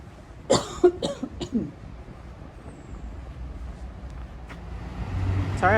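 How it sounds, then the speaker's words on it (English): Several sharp coughs from one person, close by, bunched in the first two seconds, then a low background rumble of passing road traffic in a Frankfurt inner-city street. "I was coughing."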